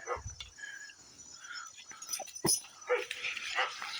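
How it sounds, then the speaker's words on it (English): A gentle pet dog whimpers and yips in short, high, broken bursts scattered across a few seconds, close by, with occasional soft sounds of a person around it. "He's a gentle dog. Pretty dog."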